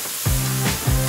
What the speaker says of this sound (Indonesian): Dan dia goreng kulitnya.